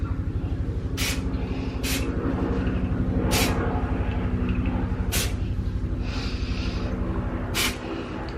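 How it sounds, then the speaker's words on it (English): Aerosol volumizing texturizer spray hisses onto lifted hair in five short bursts at irregular intervals, near and fairly loud, over a steady low background hum. "So what I kind of do with this is just lift up hair and spray."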